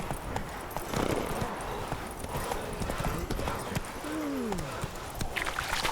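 Horse hooves clip-clop in a steady walking rhythm while riding in The Witcher 3, close and clear, with a brief whinny near the end.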